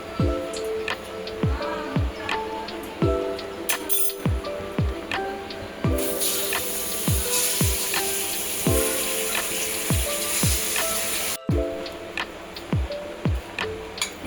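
Chicken pieces sizzling in a spoonful of oil in a kadhai, a continuous crackling fry with sharp regular ticking clicks throughout and a brief louder hiss in the middle.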